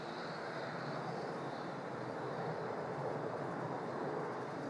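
A Qantas airliner departing Melbourne Airport for Sydney: a steady, broad jet roar heard from a distance, constant in level throughout with no talk.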